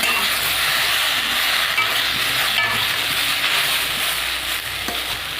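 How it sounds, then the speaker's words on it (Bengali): Cumin paste sautéed in a pan with fried plantain, potato and vegetable stems for a fish curry gives a continuous, close, even sizzle throughout, with no voices. "জিরে বাটাটা দিয়ে একটু কষিয়ে নেবো হালকা করে"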